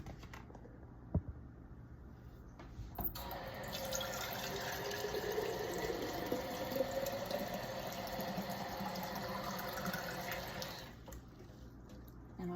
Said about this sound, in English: we will fill this jar up with some water